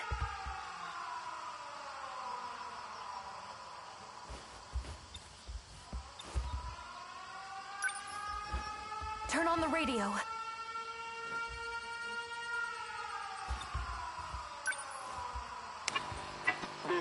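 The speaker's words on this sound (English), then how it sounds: "Air raid alarms have been sounded." Air raid sirens wail in the video game 13 Sentinels Aegis Rim, long tones rising and falling across the clip with a louder swell near the middle, sounding under a voice that speaks briefly.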